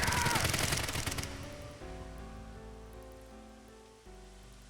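A loud, dense burst of rapid gunfire erupts for about a second in the game AI: The Somnium Files, then cuts off and gives way to sustained low musical tones.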